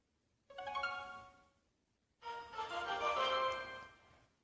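A glitching phone ringtone from a Clash Royale mobile game session sounds in two short electronic tonal bursts, the second longer and louder, faint and close, with no one talking.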